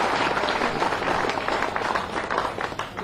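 A crowd at a BJP political rally claps and cheers for a chief minister, a dense, continuous wash of applause filling the whole moment at moderate loudness.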